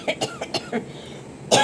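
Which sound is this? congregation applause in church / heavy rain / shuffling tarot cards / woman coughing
woman coughing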